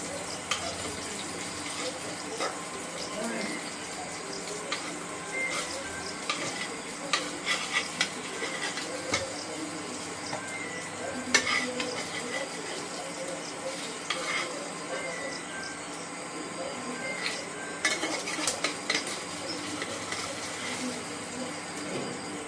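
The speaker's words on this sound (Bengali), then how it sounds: "তেলটা গরম হয়ে এসছে, মাছগুলো এবার হালকা করে ভেজে নেব" Singhi fish lightly frying in hot oil in a wok, a continuous close sizzle with occasional clinks and scrapes of a utensil against the pan.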